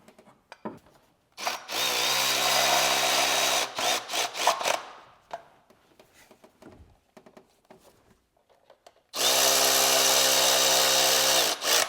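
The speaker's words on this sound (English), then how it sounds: "now we can bolt back up the motor mount bracket" Power tool driving bolts as the motor mount bracket is fastened back onto a GM 1.4L turbo engine, two long loud whirring bursts separated by short clicks and clatter, close and without speech.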